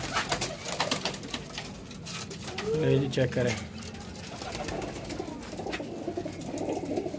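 Pigeons coo steadily in a loft, a low throaty cooing under a voice amid general rustling, with one clearer coo in the middle.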